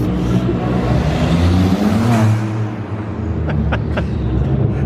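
Cars revving and doing laps in a car park, a loud, close engine roar that swells and dips in pitch, briefly easing midway before building again.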